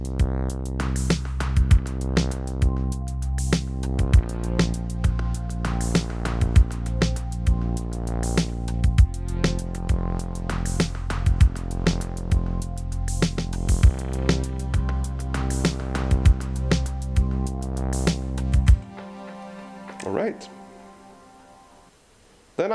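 Elektron Digitone synth sounds play: a sustained pad with a glimmering arpeggiated line over rhythmic pulses. The sound cuts to a sparse, fading tail near the end.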